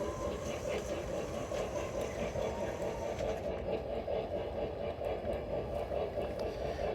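A model train with a heavy consist of several engines runs on a layout, making a steady, faint mechanical hum and rolling drone with light clicking.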